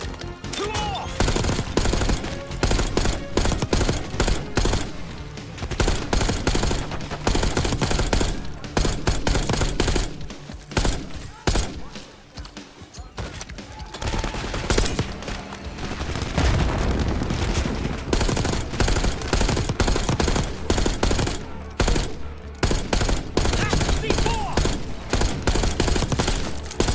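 Heavy gunfire in Call of Duty Black Ops 6: sustained automatic bursts and rattling shots, loud and close, with short lulls between volleys and occasional booms.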